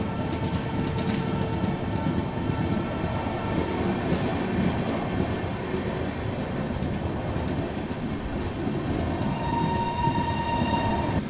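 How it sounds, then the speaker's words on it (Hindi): The Patna Amrit Bharat Express races through Naini Junction without stopping in heavy rain, a loud continuous rumble and rattle of wheels and carriages with a tonal horn-like hum rising near the end. "यहाँ पर अपनी ट्रेन ने जो है स्किप कर दिया है नैनी जंक्शन को बिना रुके"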